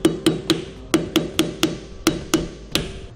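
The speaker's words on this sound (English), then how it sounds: "Just take a hammer and lightly tap it." A hammer taps a metal dust cap onto a Dexter trailer hub and drum assembly, about ten light, ringing metallic strikes in an uneven rhythm, close and clear with no talking.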